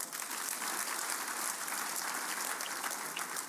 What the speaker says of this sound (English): I think you should clap for him.